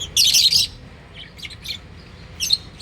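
Small bird giving bright, sharp chirps close by: a dense burst at the start, then scattered short tweets and a final pair of calls over a quiet background.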